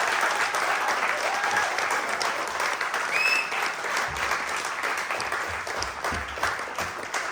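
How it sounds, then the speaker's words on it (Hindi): Hall audience at a Hindi comedy play applauds the director, continuous moderately loud clapping from a crowd, sustained without break. "जोरदार तालियां।"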